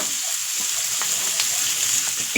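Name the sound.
onions and capsicum frying in a pan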